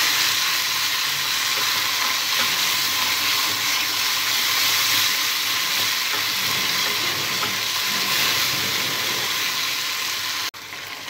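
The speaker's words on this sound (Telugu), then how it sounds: "ఈ తాలింపులో సన్నగా కట్ చేసిన మెంతి కూర వేసుకోవాలి." Finely chopped fenugreek (methi) leaves fry in hot oil tempered with seeds, dried red chillies and curry leaves, giving a steady, loud, dense sizzle that runs unbroken and alone, with one short dip near the end.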